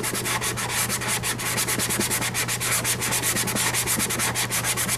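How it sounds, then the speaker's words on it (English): Steady back-and-forth rasping of a very hard sanding block rubbed over a French-polished guitar finish, levelling lumps, close and continuous, with quick rhythmic strokes. "And I'm just going to sand off those lumps."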